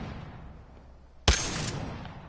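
A weapon fired at targets in Apex Legends, one sudden sharp loud shot after quiet room tone, followed by a bright ringing tail that fades slowly.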